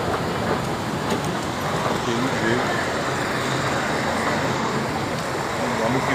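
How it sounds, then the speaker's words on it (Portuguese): Steady, busy station ambience with a constant low rumble and murmur of activity, faint voices mixed into the background throughout. "estou na estação aqui e vamos pegar o trenzão"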